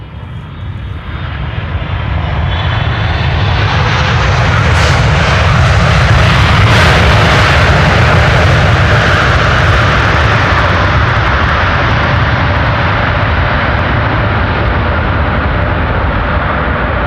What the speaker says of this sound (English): We got a wheelie, we got reversers. The landing was pretty buttery.